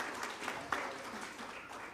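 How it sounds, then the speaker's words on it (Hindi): A hall audience at a cultural heritage event claps in welcome, a fairly soft, steady patter of many hands with one sharper clap standing out briefly. "इस सभागृह में उपस्थित सभी के लिए एक बार जोरदार तालियां बजाकर अभिनंदन कर दीजिए"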